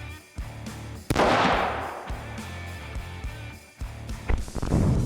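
Rifle firing a Hornady 147 grain ELD Match bullet into a gel block, a sharp loud report followed by rumbling echo decaying over the next seconds, with further bangs and noise near the end.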